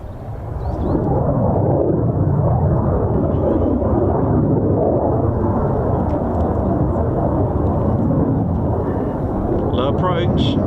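A military fighter jet flies a low approach over RAF Lakenheath, its roar swelling quickly and holding as a loud, dense, continuous rumble close overhead.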